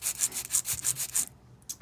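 Steady rhythmic filing, about eight even back-and-forth rasping strokes up close, then a short pause and one last faint stroke.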